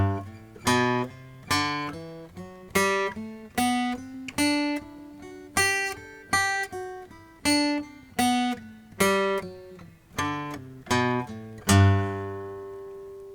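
An acoustic guitar plays a chord tone accent drill as a rising and falling scale, about a dozen picked notes with regular accents, then a final sustained ringing note, played alone with no talking.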